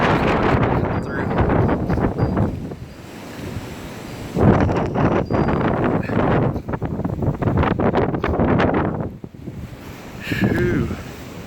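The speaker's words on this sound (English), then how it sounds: "Listen to that wind. It's really getting up." Strong wind gusts roar outdoors in heavy buffeting bursts across the microphone, with brief lulls between the surges.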